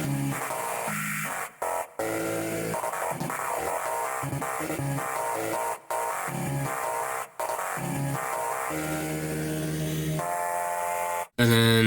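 A voice sings through a thick layered effect that stacks harmonizing backing voices, with brief drops to silence between phrases and a sharp burst at the end.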